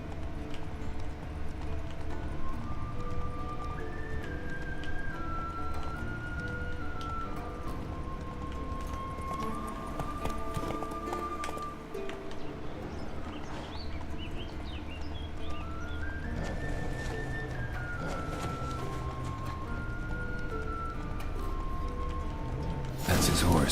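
A horse's hooves clop rhythmically in The Witcher 3 video game. The steady, moderately loud footfalls run under a melodic music score for the whole stretch.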